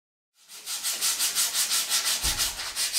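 Steady rhythmic sanding strokes on a wooden guitar body, a rough scratchy rub repeating about five times a second, close up and alone after a brief silence.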